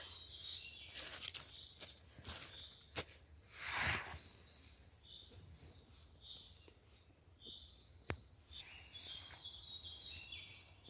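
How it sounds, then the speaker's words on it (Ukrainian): Several birds chirp and trill faintly in the distance across an open meadow at sunrise, with scattered calls and a couple of brief rustling bursts. "Сонечко зійшло, пташки в лізі співають."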